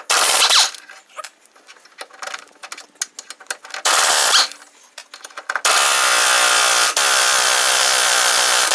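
A power impact wrench works a rusty wheel bearing bolt on a front-wheel-drive Toyota. It fires in loud, close bursts: a short opening hit, a second burst midway, then a longer sustained hammering run with one brief break, all separated by quieter gaps.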